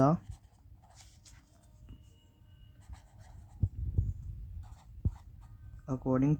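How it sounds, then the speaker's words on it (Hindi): Writing by hand on paper while setting out a company law case answer, a soft continuous scratching of pen strokes heard under a voice speaking throughout. "अब देखिए कैसे स्टार्ट करते हैं लिखना।"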